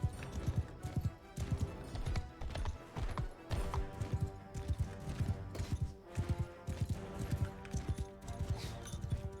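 Hooves of cavalry clip-clopping in rapid, uneven bursts as horses gallop into battle in Mount & Blade II: Bannerlord, a close, busy drumming with faint creaks, no talk.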